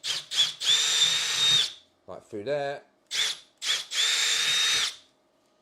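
A power drill with a 3.3mm bit bores holes for a horizontal stabiliser, whining in two long close bursts, each preceded by short blips, with someone speaking briefly between them.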